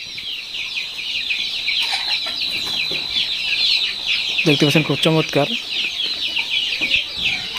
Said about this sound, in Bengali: এগুলো হচ্ছে লেয়ার মুরগি বাচ্চা